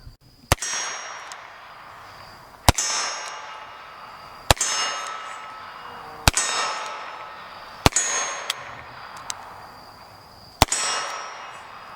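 A Smith & Wesson pre-Victory Model 38 revolver fires six loud, sharp shots at an outdoor range, spaced about two seconds apart, each with a ringing, decaying echo and a faint metallic clink between some shots.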